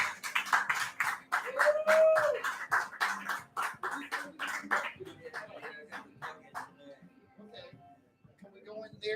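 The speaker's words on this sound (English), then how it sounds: "A round of applause." A small audience at a stage show claps in distinct, rhythmic claps that thin out and slow toward the end, with a voice and a brief whoop heard among them.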